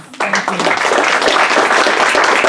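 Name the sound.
audience applauding the panelists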